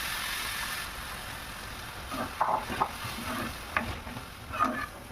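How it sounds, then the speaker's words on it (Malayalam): Tamarind water goes into a pan of frying ginger, green chillies and turmeric for inji puli, giving a steady bubbling sizzle broken by a few sharp taps and scrapes of a spoon stirring. "പിന്നെ പുളിവെള്ളം ഒഴിക്കുക"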